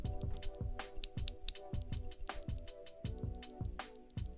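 A looped mechanical keyboard switch is pressed repeatedly, giving close, soft, crisp clacks in a steady irregular rhythm, quiet and alone.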